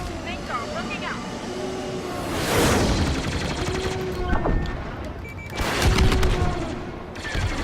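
Sustained blaster fire in the 2017 Star Wars Battlefront 2 beta, aimed at a reactor, with repeated bursts and loud booms layered over a constant roar of battle and spaceflight noise.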